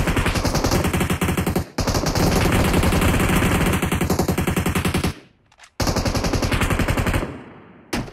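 Loud, sustained automatic gunfire from PUBG Mobile rattles in long rapid bursts, cutting off briefly twice before resuming, with no voices over it.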